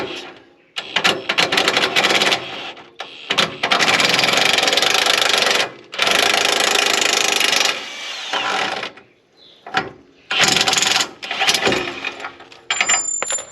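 Lower strut bolt on a 2022 third-generation Toyota Tundra being backed out with a 22 mm tool during a lift kit install, heard as loud, rough bursts of power-tool whirring broken by short pauses.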